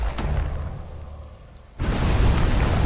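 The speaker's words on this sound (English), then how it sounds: "So I will drop a land torpedo" Land torpedo exploding in the strategy game Age of Wonders: Planetfall, a heavy rumbling boom that fades, then a second loud, dense blast that roars on to the end, with no talking.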